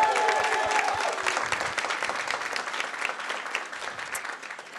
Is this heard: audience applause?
yes